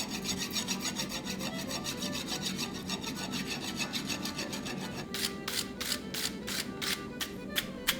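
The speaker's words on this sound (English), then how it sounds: "We're going to clean off the surfaces a little bit with a hot rasp" A hot rasp scraping the surface of a forged axe blank during a traditional fold, first a fast, steady run of rasping strokes, then slower, separate sharp scrapes, close up.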